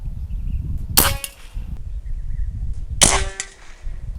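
Two sharp, loud air rifle cracks about two seconds apart, each with a quick ringing tail, over a low steady background rumble.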